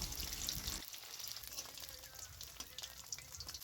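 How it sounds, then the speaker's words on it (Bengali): Paneer pieces frying in oil in a karahi give a steady, bright sizzle, close and continuous, with small stirring sounds underneath and no talking. "পনিরগুলো এখন ভেজে নেব।"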